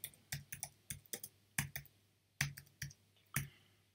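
Keywords for a print book listing are typed on a computer keyboard: a dozen or so sharp, distinct key clicks in an uneven rhythm, close and clear, with quiet gaps between them and no speech.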